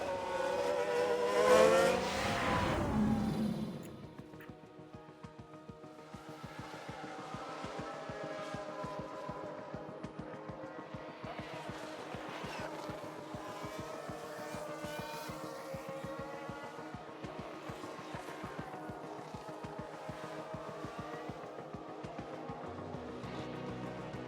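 Race cars in the F1 Manager 22 video game, a 1993 season Ferrari race, roar past after a spin: a loud burst of engine noise, then a steady droning whine of engines revving for over twenty seconds.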